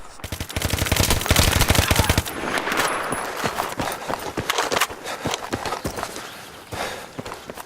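Rapid bursts of automatic gunfire and single shots in a Battlefield 3 match on the Metro map in Rush mode, loud and close at first, then scattered shots and footsteps continuing.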